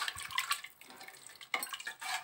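Water is poured into a pot of rice for matar pulao, a short splashing and trickling pour with light clinks of the vessel, close and soft.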